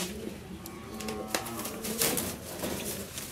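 King pigeons cooing nearby, soft repeated low coos mixed with fluttering and light clicking sounds around the birds, with faint voices in the background.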